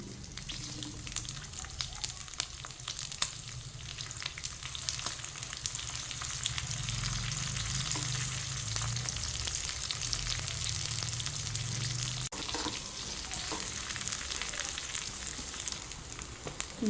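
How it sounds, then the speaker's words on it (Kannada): Chillies fry in a little oil, with onion, as a steady, close sizzle that holds evenly throughout, with light scraping stirs now and then. "ಮೆಣಸಿನ್ಕಾಯಿ ಹುರ್ಕೋಬೇಕು ಒಂದು ಸ್ವಲ್ಪ ಎಣ್ಣೆ ಒಳಗಡೆ"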